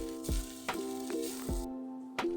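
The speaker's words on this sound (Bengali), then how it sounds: "তেল গরম হয়ে গেছে, 5 ফোড়ন দিয়ে দিলাম 1/2 চামচ।" Panch phoron spices and grated ginger sizzle in hot oil for a tomato chutney, a steady close crackle broken by a few sharp clinks of a stirring spoon against the pan.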